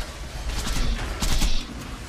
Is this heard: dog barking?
no